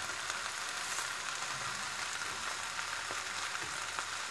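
Cabbage goes into a pan of instant noodles being stir-fried for pancit guisado, giving a steady, soft sizzle of frying that stays constant and fairly faint throughout.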